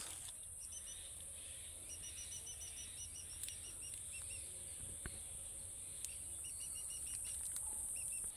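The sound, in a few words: wild birds chirping in forest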